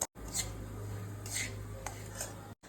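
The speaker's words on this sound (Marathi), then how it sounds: "रवा भाजताना नेहमी तो हलवत राहावा नाहीतर खालून जळू शकतो" Semolina (rava) is roasted in a pan over a low flame and stirred, giving a few soft scraping and clinking strokes of a utensil against the pan over a faint steady hum.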